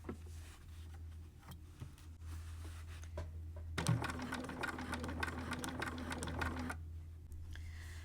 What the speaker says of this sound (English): as we're sewing this with the really tiny little stitch